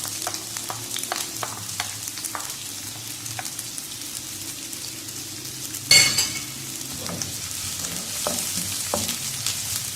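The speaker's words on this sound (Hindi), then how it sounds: "ऑयल हमारा गर्म हो गया, अब इसमें प्याज डाल देंगे।" Onions going into hot oil in a home kitchen pan over a medium flame for chicken white korma, with a steady bright sizzle throughout and a sharp louder burst of frying partway through, close and without talk.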